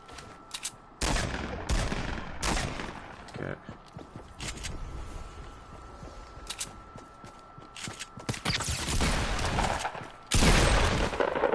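Bursts of gunfire in a console shooter game, rapid volleys and single cracks in irregular clusters, some loud and close, with footsteps and scuffling between shots.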